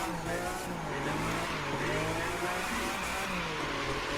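A Lamborghini Murcielago racing in The Crew 2 on a tricky Las Vegas course, with a continuous loud engine roar, shifting revs and tire squeal through the turns.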